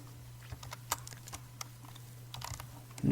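Typing on a computer keyboard while entering iptables commands, a brief run of light, close key clicks in uneven bursts over a low steady hum, no talking.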